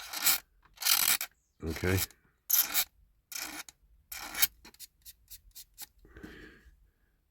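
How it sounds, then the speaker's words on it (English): Paint is scraped off a 1950s Mettoy Castoys diecast streamline coach in repeated close, harsh rasping strokes, followed by lighter scratches. A voice speaks a single brief word. "And you're basically scraping like that"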